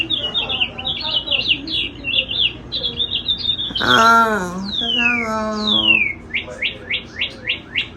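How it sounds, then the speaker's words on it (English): A talking parakeet chirps and twitters from a TV in a home, bright repeated chirps running throughout with a sustained whistled call midway and a few voices talking over it. "that bird ain't even real. It's not real. That's her TV."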